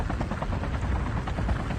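A helicopter in a battle royale video game esports scrimmage thumps with a close, loud, rapidly pulsing rotor chop over a low engine drone, sustained steadily throughout.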